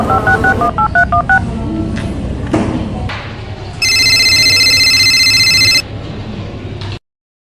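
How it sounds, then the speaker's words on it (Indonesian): A series of telephone keypad tones as a number is dialed, quick paired beeps with soft thumps of buttons being pressed, then a steady electronic ringback-like tone lasting about two seconds before a brief quieter tail. "Harus telepon Mbak Ella nih."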